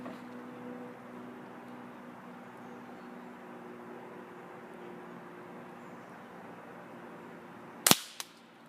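A pump air rifle fires a single sharp, loud crack of a Gamo Red Fire .177 pellet near the end, after several seconds of quiet background hum, with a faint second snap following.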